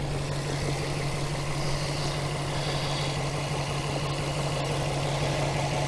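A Subaru STI engine idling with the bonnet open, a steady low hum with a constant tone and even mechanical hiss, close and unchanging, with no talk over it.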